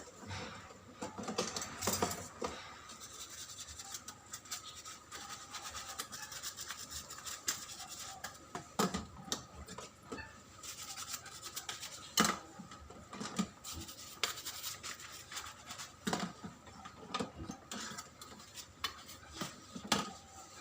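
Used items being scrubbed with a brush and rinsed in water during the third stage of a washing process, with quiet, irregular scraping, rubbing and clinking that continues steadily without talk.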